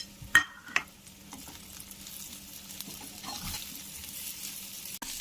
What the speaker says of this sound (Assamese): এতিয়া মই ভাজি লোৱা কলফুলখিনি ইয়াত দি লৰাই দিম।